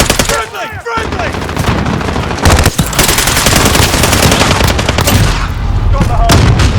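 Sustained, loud light machine gun fire in Call of Duty on the Shoot House map during a hardpoint match, rapid continuous bursts with brief gaps, overlapping in-game voice callouts.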